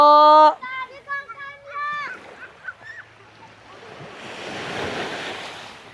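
Sea waves wash up on a beach, a broad rushing surge that swells over the last few seconds, after voices and bird-like calls at the start.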